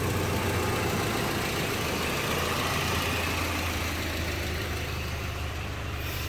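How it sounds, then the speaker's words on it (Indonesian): A used 2004 fuel-injected car's engine idling, a steady, even low rumble held at constant loudness from close by, with no speech or other sounds over it. "Mesinnya udah nyala. Mesinnya masih halus teman-teman."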